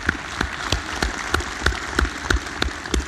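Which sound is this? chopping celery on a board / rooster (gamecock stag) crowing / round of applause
round of applause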